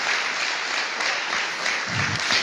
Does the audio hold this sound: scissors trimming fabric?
no